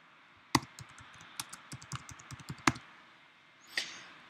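Typing on a computer keyboard, a quick irregular run of close, crisp key clicks and taps over about three seconds, then one last louder tap after a short pause.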